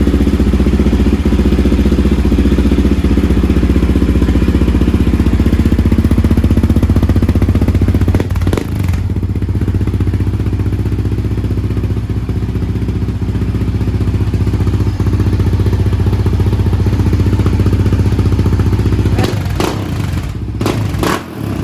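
A Yamaha Raptor 700 ATV, freshly fitted with a replacement subframe, runs loud and close with a steady rough engine drone and light mechanical clatter, holding at idle throughout with a few brief rises near the end.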